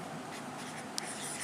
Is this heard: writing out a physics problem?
yes